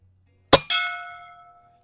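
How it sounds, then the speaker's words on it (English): An Umarex Notos G2 air rifle shot strikes a steel gong target outdoors at a range: a sharp crack followed a split second later by a bright metallic clang that rings out and fades over about a second. "let's hit the gong first."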